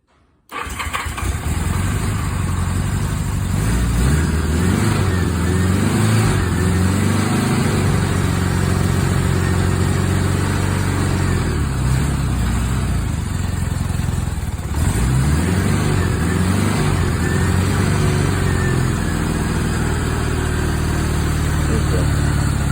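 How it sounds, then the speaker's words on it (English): A 1976 Honda GL1000 motorcycle engine cranks and starts on choke after sitting for months, then settles into a steady, loud running idle with a slight rise and dip partway through. "So fuel's on. Let's give it a start."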